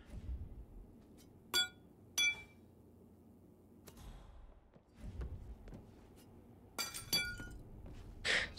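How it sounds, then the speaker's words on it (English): Glass shatters in a video game after a thrown object strikes it, several sharp bursts of breaking and clinking spread across the stretch, with softer thuds and quiet gaps between them. "So the glass breaks in other places, but not this glass, I guess"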